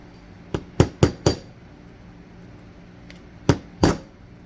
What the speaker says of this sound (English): So I just sometimes use my big wrench and a little screwdriver here.